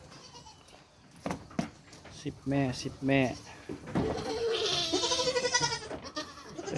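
Pregnant goats close to giving birth bleat on a farm in a few short, wavering cries, some near and some overlapping, while someone talks over them.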